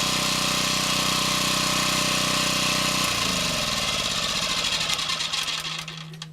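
Champion 1200W portable gas generator running steadily with a buzzing engine drone, then the tone shifts and it loses speed as it winds down near the end, loud and close with no voices.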